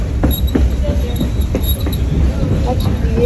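A wobbling passenger coach on the Valley Railroad in Essex, Connecticut rolls along with a loud, steady rumble, rattling and occasional wheel clacks close by.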